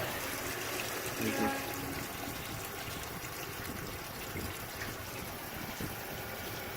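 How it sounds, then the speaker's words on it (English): Hot water rushing from a water heater's relief valve during a service, a steady broadband hiss and gush of liquid running continuously at close range with no talk over it. "we'll go ahead and open this relief valve"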